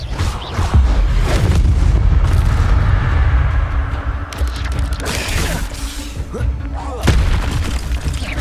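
Incendio fire spell cast in Hogwarts Legacy during combat, loud booming bursts and crackling blasts layered over game action, with a person talking over parts of it.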